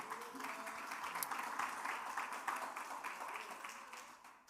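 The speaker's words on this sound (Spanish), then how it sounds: "Denle un fuerte aplauso al Señor." Church congregation applause, a dense wash of many hands clapping steadily, fairly distant and soft, fading slightly at the end.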